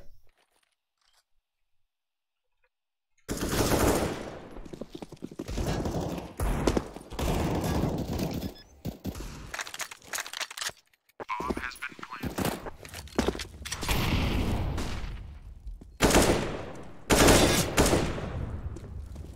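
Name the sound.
gunfire in Counter-Strike video game, Cache map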